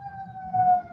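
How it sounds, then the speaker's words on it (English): An emergency vehicle siren passing outside, heard as a steady wailing tone at moderate distance that swells slightly louder partway through the brief moment. "sorry, that was a siren."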